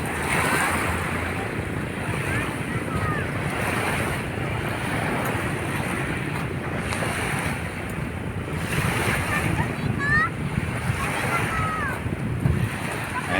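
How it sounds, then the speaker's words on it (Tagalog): Ocean surf at Dolomite Beach rolls in a continuous wash, with heavy wind buffeting the microphone throughout. "Kung nakikita ninyo ang ganda ng alon mga kababayan."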